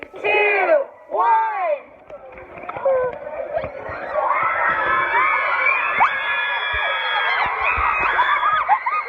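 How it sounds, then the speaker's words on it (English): Sorority girls opening their bid envelopes break into a frenzy of high-pitched screaming and shrieking, starting with two loud separate shouts and then swelling into a sustained crowd of excited voices. "everybody opens it and you find out what sorority you got into, and there's so much screaming, it's kind of insane"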